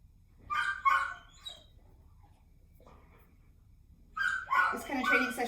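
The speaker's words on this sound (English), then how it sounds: "Your friend Laddie is barking a lot." A dog barks in short yips and bursts during an outdoor training session, a few sharp barks early and a louder cluster near the end, with a person speaking softly nearby.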